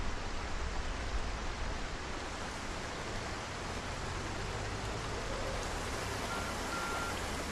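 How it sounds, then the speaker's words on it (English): Heavy rain in Project Zomboid, a steady, loud, broadband hiss that stays constant throughout with no talking over it. "I think because the rain's really loud"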